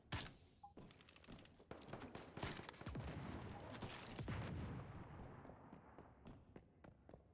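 Rapid bursts of gunfire in the survival shooter game Once Human, crackling shots in fast strings repeating steadily over several seconds, fairly loud and alone.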